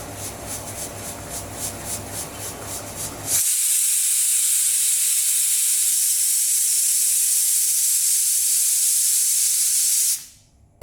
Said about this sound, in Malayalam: ഇപ്പം ഇത് 5 വിസിൽ വന്നിട്ടുണ്ട്.